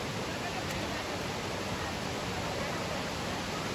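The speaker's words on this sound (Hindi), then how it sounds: "ये ऐसे पानी कल कल कल कल और झरता रहता है यहाँ" A waterfall pours into a deep pond at Baruasagar, making a loud, steady, unbroken roar of rushing water with no voices.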